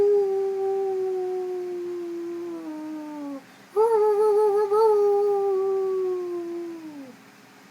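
A person imitates a howling dog or wolf with their voice, giving two long sustained howls that glide and waver, the second rising after a short break and then trailing downward, close and loud with no talking.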